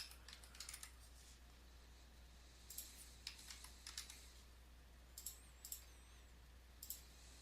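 Keys pressed on a calculator while working a statistics problem, heard as quiet bursts of rapid clicky taps in short clusters over a steady low hum, with no talking.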